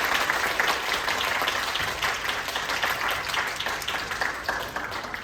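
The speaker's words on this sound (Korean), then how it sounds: "우리 박수로 우리 집사님 맞이하겠습니다" An audience at a church youth summer retreat applauds to welcome a speaker, dense continuous clapping from many hands filling the room, fairly loud and steady throughout.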